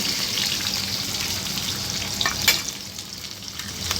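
Two eggs fry in a hot wok alongside stir-fried noodles and pork, a steady close sizzle with faint scraping and stirring clicks throughout.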